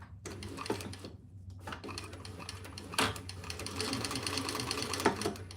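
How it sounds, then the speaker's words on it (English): A sewing machine stitches down the folded inside edges of a fabric divided basket, a close, busy rattling hum in bursts with short pauses and a few sharper clicks. "now we're gonna stitch down each folded edge on the inside there."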